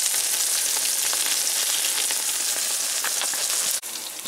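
Rutabaga pieces frying in a pan, a steady dense sizzle with scattered crackles throughout, close and fairly loud, with no talking.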